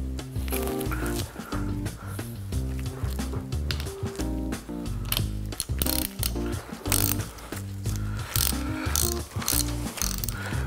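A ratchet tightens the foot nut on an RL2 bike suspension fork, giving fast, rhythmic mechanical clicking in repeated bursts, close and clear with brief pauses between strokes.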